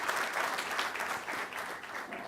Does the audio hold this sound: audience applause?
yes